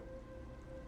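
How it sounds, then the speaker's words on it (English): In the video game Planet Crafter, rain falls as a steady, soft hiss of drops, with a faint tonal hum beneath it and no talking. "It's raining again."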